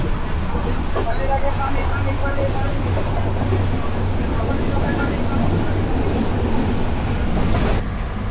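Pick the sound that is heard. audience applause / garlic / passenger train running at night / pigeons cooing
passenger train running at night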